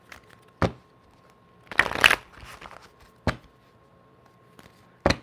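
Tarot cards are shuffled by hand in quick riffling bursts, with a few short slaps and a longer rustling shuffle in between, close and clear in a quiet room.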